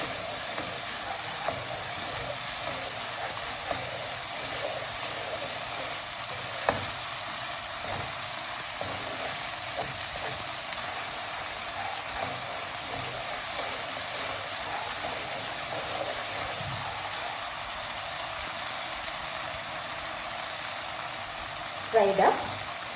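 Onion and garlic paste frying in a pan: a steady moderate sizzle with faint stirring and occasional light knocks, close, ending in a brief clatter.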